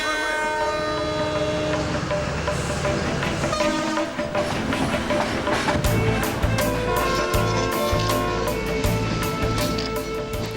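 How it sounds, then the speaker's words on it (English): Historic steam-hauled passenger train with wood-panelled compartments running through Sri Lanka, a dense steady rumble of wheels and carriages with a horn-like tone and rhythmic clacking that grows busier and louder partway through, no talk. "The historical steam locomotive-driven train is a favourite with locals and visitors alike."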